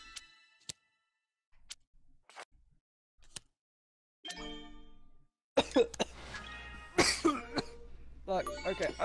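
Coughing from a person during an Uno card game, several short sharp bursts in the first seconds, then louder voices talking and shouting over the rest.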